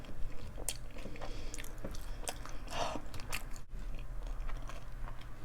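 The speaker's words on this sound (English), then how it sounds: "but I can't stop eating. A few more bites and I'll get started." Loaded cheesy bacon fries are crunched and chewed close to the mic, with quiet bites, crackles and soft mouth sounds coming in an irregular run.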